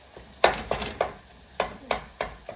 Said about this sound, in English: Keep chopping your meat